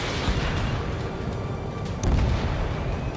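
A missile striking and destroying a ground target in Ace Combat 7: a deep, rumbling boom that swells suddenly partway through, over a constant low roar of jet engine and battle noise.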